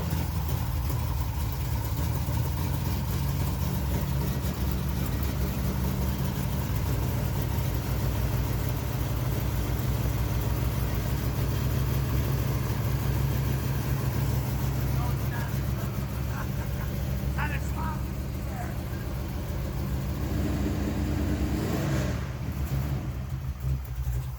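A big-block car engine idles steadily as it warms up, a constant low rumble that runs the whole time, with a few faint clinks and handling sounds near the end.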